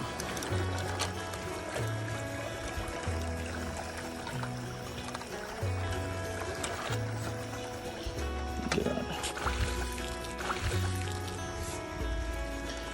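Pool vacuum pulling water through its hose while cleaning a backyard pool, a steady gurgling, sucking flow with low rhythmic pulsing and trickles, close and continuous, no speech.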